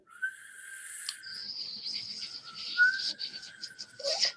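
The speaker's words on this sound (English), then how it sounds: "I learned to whistle by sucking in." A thin, wavering whistle made by sucking air in, with breathy airy noise, long sustained tones broken by short gaps, fairly quiet and close.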